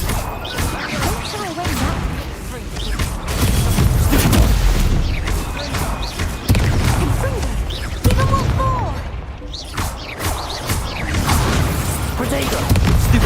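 Incendio fire spell cast in Hogwarts Legacy, loud bursts and whooshing blasts amid continuous game combat noise, with crashes and thuds overlapping throughout.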